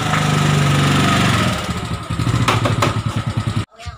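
An automatic motorcycle, a scooter, runs close by with a steady buzzing engine drone that shifts into a rougher, pulsing rattle before cutting off abruptly near the end.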